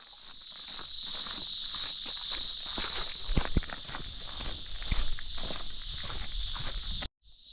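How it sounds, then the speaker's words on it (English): Loud, continuous high-pitched buzzing of giant Australian cicadas in the Blue Mountains dominates, with faint footsteps crunching underneath, then cuts off abruptly near the end. "the sound of the cicadas. Have a listen."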